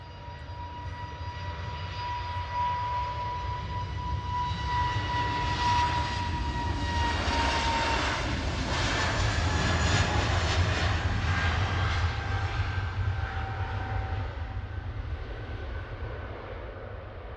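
An SAS Airbus A320neo bound for Copenhagen accelerates on its take-off roll at Manchester Airport at night, the engine roar and whine swelling to a peak midway, then easing off as it departs.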